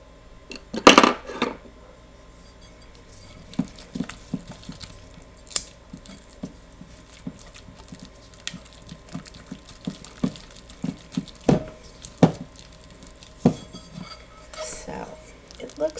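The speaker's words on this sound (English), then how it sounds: "I'm going to take that knife and make sure all the stuff on my spoon gets blended evenly." Knife and spoon working homemade air dry clay, a scattering of sharp metallic clicks and scrapes against utensils, irregular and close, with quiet gaps between and one louder clatter early on.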